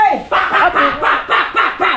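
A dog barks repeatedly in a quick, steady rhythm, about six loud, close barks in two seconds, with voices briefly underneath.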